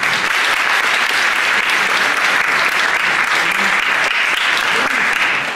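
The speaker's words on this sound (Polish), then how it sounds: "Miejsce na brawa." Loud, dense applause fills a hall at a beauty pageant gala during a fashion collection show, continuous clapping from a packed crowd without a break.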